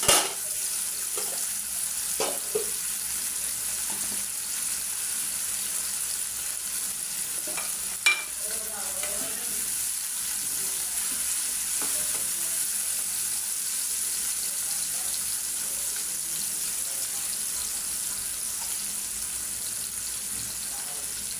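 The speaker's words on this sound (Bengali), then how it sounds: "পেঁয়াজগুলো ভিজে ছিল, এই জন্য একটু শব্দ করতেছে পেঁয়াজে।" Wet chopped onions frying in hot oil, a steady, close hiss of sizzling throughout with a few faint clinks of stirring.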